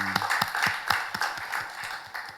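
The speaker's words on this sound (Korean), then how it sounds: "우리 살아계신 하나님께 영광의 박수 올려드리겠습니다." A church congregation claps in praise during a worship service. The clapping comes as a brief patter of distinct, fairly loud claps, some of them spaced out and some close together, with a faint murmur of voices behind it.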